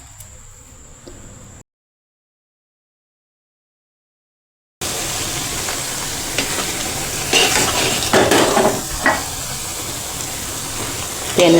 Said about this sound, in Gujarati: તેને આ રીતે હલાવીને મિક્સ કરી નાખીશું।